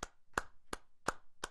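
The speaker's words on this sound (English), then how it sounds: "Let's give Him a round of applause." During a church communion service, hands clap in five sharp, distinct, evenly spaced beats, fairly quiet and close, with silence between each clap.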